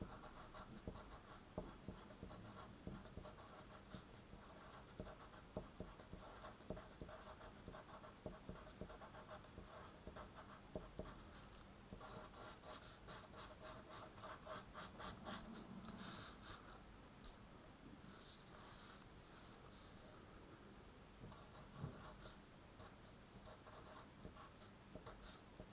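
A pen scratches and taps faintly on a surface while a number sequence is written out, the small irregular strokes continuing over a quiet, hissy background.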